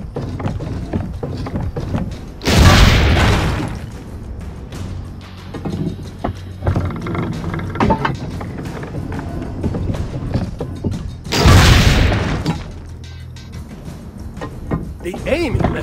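Cannon shots boom twice in Assassin's Creed: The Ezio Collection, each a loud, broad blast, spaced several seconds apart between stretches of speech and mechanical clatter.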